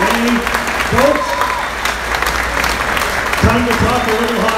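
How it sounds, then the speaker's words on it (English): An audience at a Belleville Senators hockey jersey launch claps in a sustained round of applause, with a voice speaking over the clapping. "Let's give another massive round of applause to Danny for winning."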